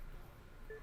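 In the Luigi's Mansion video game, a telephone sounds with a short, thin electronic tone near the end, faint over a low background hum.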